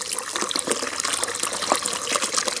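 Water from a hose running through a funnel into a well makes a steady, close splashing and trickling flow, continuous and fairly loud, with no voices over it.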